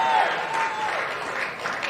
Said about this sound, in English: A little less applause.